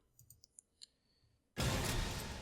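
A weapon case opening in the shooter CS:GO: a few faint interface clicks, then a sudden loud, dense whooshing rush of the case-opening sound that continues to the end.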